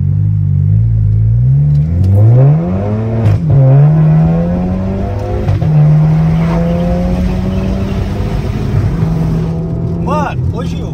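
Audi A3 1.8 turbo with a stage 2 tune revving hard from close by, the engine note climbing and falling through repeated surges across the whole stretch, loud and dominant with brief voices underneath.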